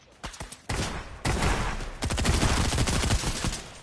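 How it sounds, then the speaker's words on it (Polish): Rapid bursts of gunfire in a battle royale shooter, starting with a few scattered shots, then dense, loud automatic volleys that keep going to the end. "ktoś tu strzela."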